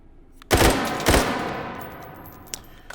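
An AK-12 prototype rifle in H3VR fires two quick loud bursts close up, each ringing out into a long fading tail, followed by a couple of small mechanical clicks; no talking.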